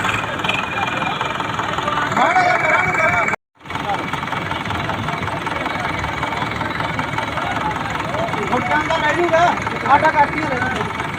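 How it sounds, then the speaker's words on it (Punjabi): A Sonalika tractor engine idles steadily throughout with a rough, continuous rumble, briefly cutting out near the start before resuming at a constant level. "ਆਪਣਾ ਟਰੈਕਟਰ ਭਾਈ ਆ ਜਿਹੜਾ ਟਰੈਕਟਰ ਭਾਈ ਆ ਟਰਾਲੀ ਖਿੱਚਣ ਦੇ ਲਈ ਤਿਆਰ ਆ"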